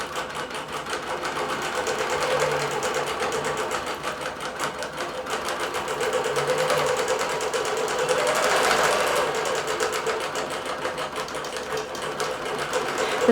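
A computerized quilting machine stitching an 80-inch quilt runs in a steady, fast mechanical buzz with a rapid needle rhythm, close and continuous, with slight swells in intensity and no voices.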